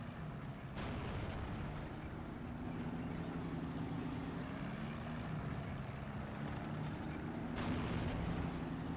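Artillery in the strategy video game Steel Division II fires with a couple of muffled booming thuds over a low rumbling battlefield ambience, fairly quiet and distant throughout.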